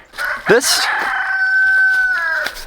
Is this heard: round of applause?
no